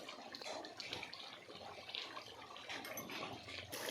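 Fish curry boiling vigorously in a pot on a clay wood-fired stove: a continuous, bubbling, watery rumble with crackly spatter, close and steady throughout.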